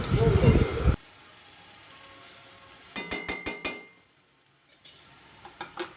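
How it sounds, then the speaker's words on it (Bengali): Metal utensil clattering against a pan while cabbage is stirred, a quick run of sharp clinks followed by a few softer taps, after a burst of loud talk at the start. "ভাসনের আওয়াজ পাওয়া যাচ্ছে বাঁধাকপিটা ভালো করে নেড়ে মিশিয়ে নিচ্ছি"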